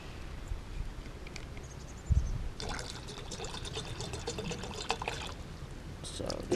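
Sterilized water poured into a pot for cooking rice, a steady close splashing stream that starts abruptly and continues for several seconds, with people talking faintly in the background.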